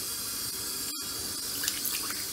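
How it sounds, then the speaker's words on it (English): Water runs steadily from a tap over a telescope mirror as it is rinsed, a continuous splashing hiss that breaks off for a moment partway through and then carries on alone. "Rinse all that water off."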